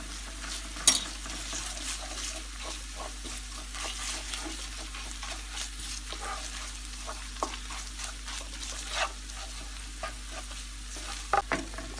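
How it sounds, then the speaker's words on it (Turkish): Onions fried until pink, now with a spoonful of chili flakes and a spoonful of tomato paste, are stirred in a pan with a steady soft sizzle and intermittent scraping strokes, close and fairly quiet, with no talking. "İçerisine bir tatlı kaşığı pul biber, bir tatlı kaşığı salça ilave edip tekrar karıştıralım."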